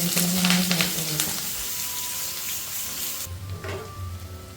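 Sliced onion, ginger and curry leaves drop into hot oil where mustard seeds and chilies have already popped, giving a bright loud sizzle that settles into a steadier hiss with a few clinks and a faint tone, close by.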